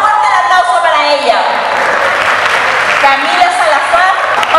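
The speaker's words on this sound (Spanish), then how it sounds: "Fuerte el aplauso para ella." A crowd claps steadily for a few seconds while voices carry over the applause, at a gaming expo award presentation in Temuco.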